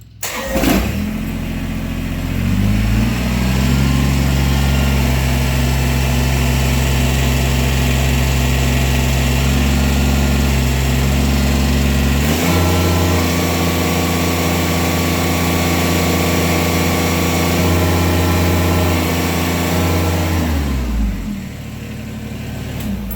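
A Kubota BX23S compact tractor engine cranks, catches and settles into a steady, loud idle close by for about twenty seconds, then shuts off near the end.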